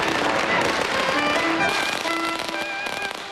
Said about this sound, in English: people take to the streets, filling this first day of the new year with the explosion of firecrackers